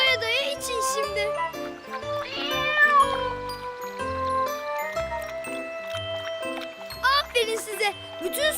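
Cartoon cats meow repeatedly in bright, tonal cries over a musical background with light jingling, while a child-like voice speaks intermittently.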